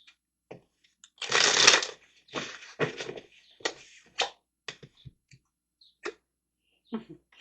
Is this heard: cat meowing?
no